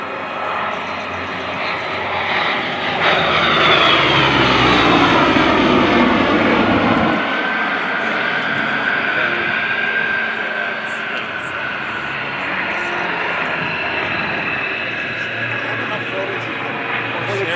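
A Corsair propeller warbird roars past in a loud airshow flyby at Abbotsford, engine swelling to a peak then fading as it pulls away, with a crowd murmuring underneath.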